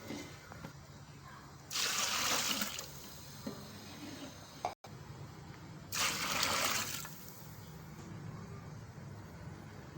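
Water poured into a pot of stock for pigeon pulao comes in two separate splashing bursts of about a second each, close and fairly loud, with quiet kitchen ambience in between.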